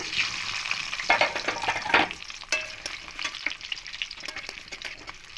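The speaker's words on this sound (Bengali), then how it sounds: "এবার এই তেলের মধ্যে কেটে রাখা আলুগুলো ভেজে নেব" Cut potatoes fry in hot oil for hilsa biryani, a close, continuous sizzle broken by several sharper scraping stirs and crackling bursts.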